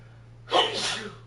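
A single sharp game-character sneeze from Final Fantasy 16, bursting out abruptly after a quiet moment with a breathy, hissing tail, close and fairly loud over a faint steady background hum.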